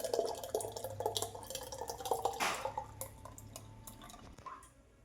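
Milk is poured into a pot to make sweet curd: a steady liquid splash and trickle with some dripping, close and moderately loud, easing off and fading near the end, with no talk.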